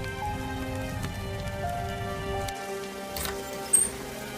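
Heavy rain at night patters steadily on a surface, a constant, moderately faint hiss of drops with a few small knocks, over a steady background hum.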